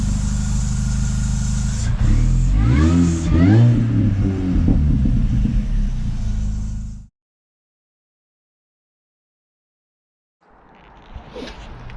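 A supercharged R53 Mini Cooper S engine runs steadily with a rumbling drone and a few rising revs, loud and close, then cuts to silence before a fainter stretch of noise returns near the end.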